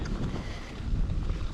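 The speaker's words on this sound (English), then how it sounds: "At least it's warm wind" Warm wind gusts across a bare, open field on a night ride, roaring steadily into the microphone as a low, buffeting rush with no voices.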